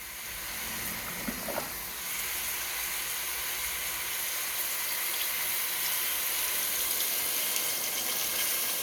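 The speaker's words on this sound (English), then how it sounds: "So now I'll be adding a little water." Water poured into a pot of Jamaican curry goat before pressure cooking; a steady, soft hiss and trickle that runs throughout, fairly quiet, with no talking.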